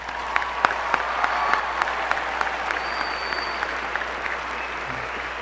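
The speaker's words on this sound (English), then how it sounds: "So let's give us a big round of applause" A large crowd claps steadily and loudly at a Weber High School graduation ceremony, a continuous wash of applause that holds for the full five seconds.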